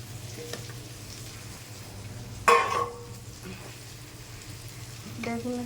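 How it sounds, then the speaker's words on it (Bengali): Eggplant frying in hot oil in a wok, a steady low sizzle with a brief louder burst of spitting oil partway through. "বেগুন একটু ভাজা ভাজা করতে হবে"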